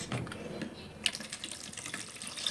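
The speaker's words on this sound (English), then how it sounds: "what I'm going to do now is pour it into this" Butter and milk mixture being poured from one container into a bowl, giving a steady watery trickle and splash at close range with a sharp clink near the middle, no talking.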